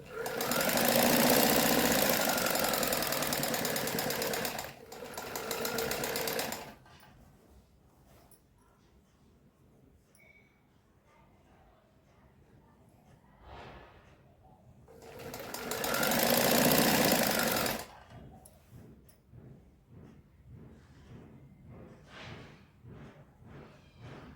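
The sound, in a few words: sewing machine stitching a kurti strip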